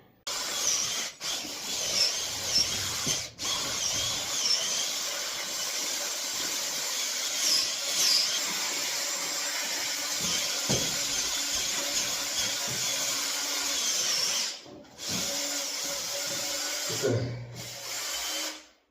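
A power drill with a mixing paddle churns tile adhesive in a bucket, a continuous close whirring grind with a few short pauses and restarts.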